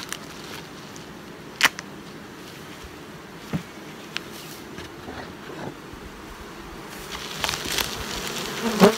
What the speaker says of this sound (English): See the bees right across the top bars there.